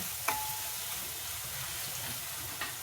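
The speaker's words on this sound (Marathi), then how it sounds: "चांगलं परतून घेऊया" Spiced mixture sautéing and sizzling in a pan while making a mixed-lentil kadhi, a steady close crackle with faint stirring scrapes and no talking.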